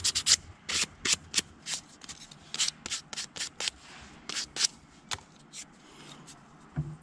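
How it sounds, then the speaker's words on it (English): Sandpaper is rubbed by hand along the edges of a cut-out template for a DIY Xbox controller stand, making close, brisk scratchy strokes in uneven bursts with short pauses, and no voices. "take a piece of sandpaper, kind of smooth up the edges"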